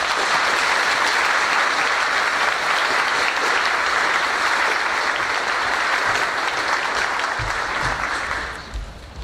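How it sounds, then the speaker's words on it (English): A large audience at a high school senior awards day applauds loudly and steadily for about eight seconds, the dense clapping fading out quickly at the end. "Please join me in giving them a big round of applause"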